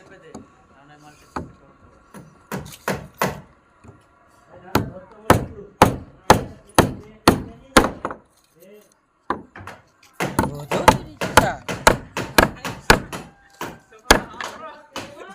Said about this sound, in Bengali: ও দাদা এখন পাটা পেরেক মারছে পাটাতে